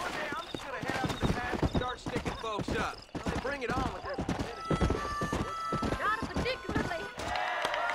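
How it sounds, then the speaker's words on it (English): Rapid clip-clopping hooves of a war horse in the Western video game Red Dead Redemption, a steady galloping rhythm with a whinny and snorts, mixed under a man's speech. "Is this my war horse?"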